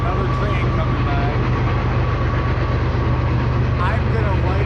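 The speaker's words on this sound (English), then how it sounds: "Got another train coming by" A train rolls past near the Mississippi River at a campsite, a loud, steady rumble of engine and rail noise close by, with a faint squeal near the end and no talking.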